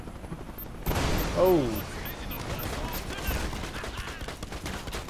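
Gunfire in the video game Narco Terror, a sudden burst of rapid shots followed by a sustained rattle of firing and impacts, loud and close, with a man's brief exclamation over it.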